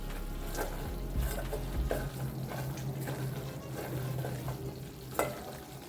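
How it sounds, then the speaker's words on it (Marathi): Spice mixture sautéing in a pan on the stove, a steady close sizzle with a spoon stirring and scraping at intervals throughout. "हे सर्व मसाले घातल्यानंतर आपल्याला हे सर्व मिश्रण एक दोन मिनिटे छान असं परतवून घ्यायचं आहे"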